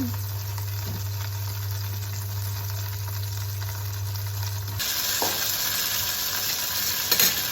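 Chicken browning in a hot pan, a steady crackling sizzle with a low hum underneath that cuts out partway, after which the frying grows brighter and louder with a few utensil knocks near the end.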